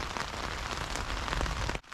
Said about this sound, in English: I do kind of hope that the rain carries on, to be honest. It's getting heavier again.